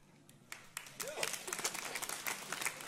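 Church congregation at a Sunday service in Tauranga begins clapping after a faint start, building into scattered, moderately quiet applause with a brief vocal sound mixed in.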